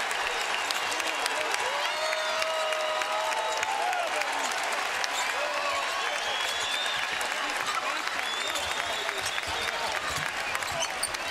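Basketball arena crowd at a college game between Marquette and Seton Hall cheers and applauds continuously, a loud sustained roar with whistles and shouts, commentary running over it.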